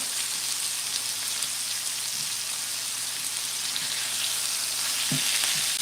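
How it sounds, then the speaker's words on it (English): Pork chops sear in a hot pan with a tablespoon of fat, giving a steady close sizzle and crackle like light rain, with a couple of sharper pops near the end and no talk. "We'll let it sear off there."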